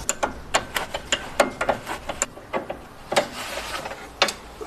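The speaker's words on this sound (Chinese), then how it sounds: "现在我们把这个方向机的连接杆给拆下来。" Tools working on a car's steering gear connecting rod during repair of an underbody noise fault, a close run of sharp metallic clicks and ratcheting taps at an irregular pace, with no talking.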